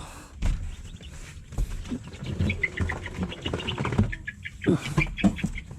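Rhode Island Red chicks peep in short, scattered bursts inside a small nursery pen made from a box and green netting, close by, with light rustling and footsteps.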